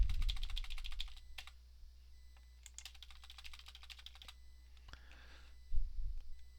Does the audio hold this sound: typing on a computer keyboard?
yes